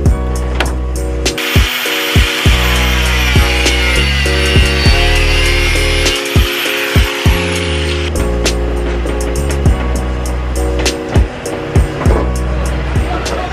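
A power saw cuts down a car fender that rubs the tire, a loud buzzing, rasping cut running steadily for about thirteen seconds with brief pauses and clanks, alone without talk.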